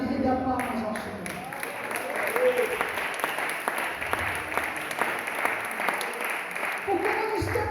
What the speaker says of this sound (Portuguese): renda palmas ao Senhor